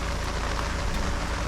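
Rain falls steadily at a gold prospecting camp north of the Arctic Circle, making a dense, even hiss of drops hitting surfaces close by with no pauses.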